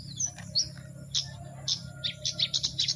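Small wild bird calling outdoors at a bird-trapping spot, giving a run of short, high, bright chirps in quick irregular bursts over a faint low background hum.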